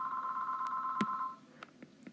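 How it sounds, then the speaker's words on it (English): Telephone rings with a steady electronic tone lasting just over a second, then cuts off, followed by a few faint clicks and knocks in a quiet room. "Sorry, the phone's ringing."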